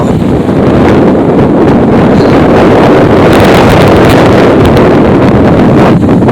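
Strong wind buffets the microphone in a loud, constant roar with rough low-end rumble and no pauses.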